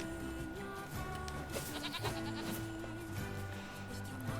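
Sheep bleating in the Nier: Replicant video game, several wavering calls overlapping over a steady game soundtrack, fairly loud and close throughout with no talking.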